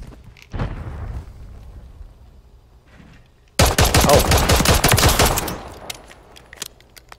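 Pistol gunfire in a Call of Duty Gunfight match, with a loud opening shot, a quiet gap, then a dense, continuous burst of rapid shots lasting nearly two seconds before fading out.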